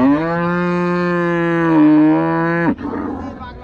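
At the large Chaubaria cattle market, a cow gives one long, loud, close moo lasting a few seconds, then it breaks off into the murmur of the busy market.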